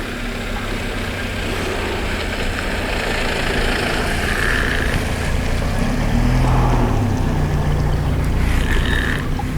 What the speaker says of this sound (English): we've got someone driving up the